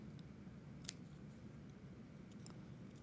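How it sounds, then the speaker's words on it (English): A single quick snip of scissors trimming fabric quilt-block corners near the start, then another faint cut later, over a low steady background hum. "Take my scissors, trim off those dog ears."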